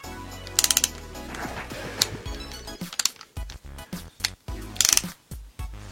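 A torque wrench with a 16 mm socket, set to 65 Nm, tightens a rear brake caliper bolt on a BMW E46 330. Sharp ratcheting clicks come in short irregular bursts, close and distinct.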